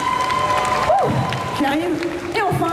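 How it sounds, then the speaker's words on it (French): A crowd at a cosplay contest at TGS Toulouse 2022 applauds and cheers beneath an announcer's amplified voice. The lively clapping is mixed with scattered shouts and carries on steadily throughout. "On peut l'applaudir bien fort également."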